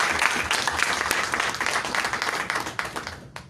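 Applause from the audience at a press conference for La Nuit des Imbattables, third edition: steady dense clapping that carries on for several seconds and thins out toward the end.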